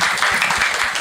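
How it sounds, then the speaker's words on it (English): A brief burst of steady audience applause at a career festival panel in Karachi, continuous clapping for about a second with no pauses. "a big round of applause for all of that"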